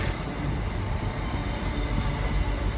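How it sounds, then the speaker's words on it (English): An HST high speed train pulling into York station, a broad continuous rumble of rolling wheels and engine noise filling the platform, steady and fairly loud. "HST coming on in."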